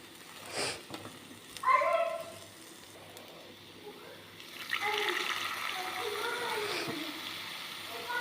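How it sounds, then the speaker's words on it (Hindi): Water is poured into a cooking pan in a home kitchen, a short splash and then a steady, moderate pouring gush that fades out, with a brief voice and clatter beforehand. "टिके पानी ऐड करवा।"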